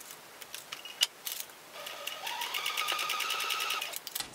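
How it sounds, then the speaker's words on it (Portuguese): Domestic sewing machine stitching the folded ends of a fabric clutch bag, a few clicks and taps, then a close, fast rhythmic stitching run of about two seconds that stops abruptly, no talk. "Dobro novamente e costuro nessa pontinha aqui e nessa pontinha aqui."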